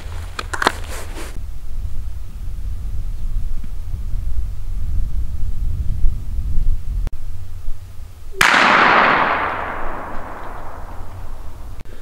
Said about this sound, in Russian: Сейчас попытаюсь его тоже взять. Главпатрон, дробь номер 5, 24 грамма.